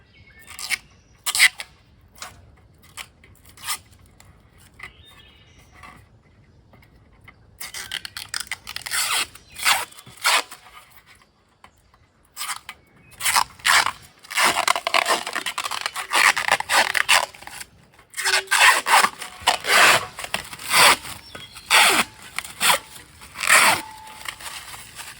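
Protective plastic film being peeled and pulled off modular raised bed garden panels: irregular crinkling, crackling and tearing bursts, some long and loud, separated by brief quiet gaps.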